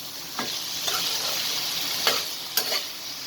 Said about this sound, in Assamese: আৰু গোটেইখিনি এতিয়া মই ৰঙচুৱা হোৱালৈকে ভাজি ল'ম